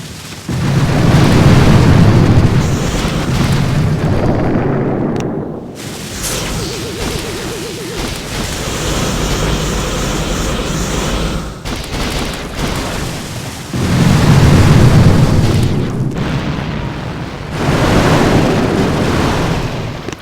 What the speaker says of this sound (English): With our barrage, we basically barrage that one because it's the hardest to get to.